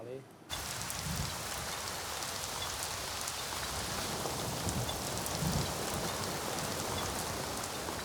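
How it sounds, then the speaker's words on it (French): Monsoon rain pours down steadily, a dense even hiss of drops on surfaces that starts abruptly after a brief quiet moment and continues without break. "Jean-Baptiste est arrêté par la pluie"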